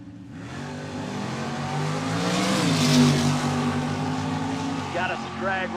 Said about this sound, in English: Got us a drag race here.